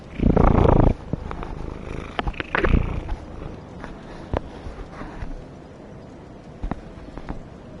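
A cat's low, rumbling purr in Dark Souls 3, loudest in a close burst at the start and then continuing softly beneath scattered clicks and thuds from the game.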